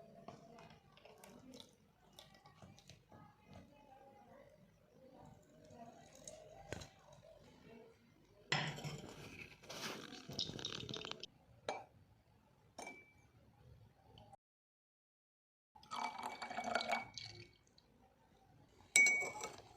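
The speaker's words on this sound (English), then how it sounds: "To remove any solid chunks, we filter the solution using a tea strainer." A DNA extract solution is poured through a tea strainer, giving faint clinks of glass and utensils, soft liquid trickles and dripping, with a few louder bursts of pouring and a brief silent gap near the end.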